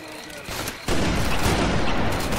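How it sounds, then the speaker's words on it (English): Gunfire in the Left 4 Dead 2 zombie shooter, a dense fusillade of shots that starts moderately and jumps louder partway through, continuing as a sustained loud barrage. "What in the hell just shot me?"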